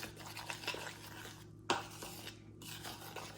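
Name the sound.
mixing icing for Pop Tarts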